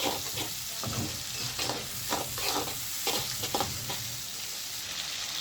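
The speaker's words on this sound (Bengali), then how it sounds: "এখন এটা একটু কষানি হয়ে যাবে, একটু কয়েক মিনিটের জন্য একটু কষানি হোক" Onions and tomatoes sautéing in a pan with a splash of water for a fish curry, a steady close sizzle broken by repeated scraping stirs throughout, with no talking.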